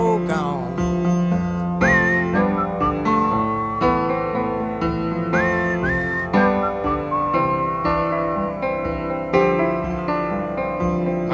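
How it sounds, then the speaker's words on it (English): Whistled melody rides over a steady band accompaniment in Tom Waits' song Mockingbird, with clear, sustained whistled phrases that rise and glide across the track. "he whistles in it, which is weird, but it works"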